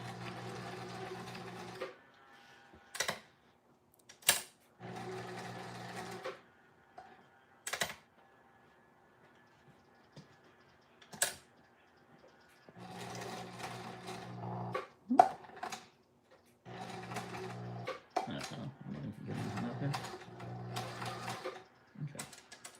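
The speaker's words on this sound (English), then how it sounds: "Stitching the next finger." A sewing machine stitches a puppet's finger in short separate bursts of rapid mechanical whirring, with sharp clicks between runs, close and fairly quiet.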